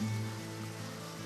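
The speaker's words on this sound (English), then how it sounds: "I wish it weren't fucking raining today." Rain in the video game Deadly Premonition falls as a steady soft hiss with a low tonal hum beneath, continuous and moderately quiet, no voices.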